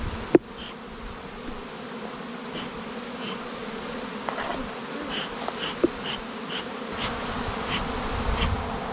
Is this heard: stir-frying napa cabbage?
no